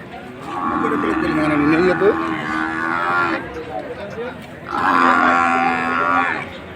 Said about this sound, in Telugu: ఈ వారం బర్రెల సంతకు భారీగా బర్రెలు అయితే వచ్చినాయి